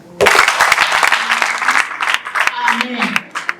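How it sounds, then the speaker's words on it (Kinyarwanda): A church congregation breaks into loud, close hand clapping that starts abruptly and continues in quick, uneven bursts, with some voices mixed in. "Mubanze mukomere amashyi"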